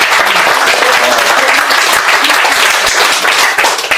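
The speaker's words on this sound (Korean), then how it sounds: "이럴 때 박수 좀 안 치죠" An audience breaks into sustained, dense applause in a lecture hall during a professor's talk on Chinese characters, loud and steady for several seconds before tapering slightly at the end.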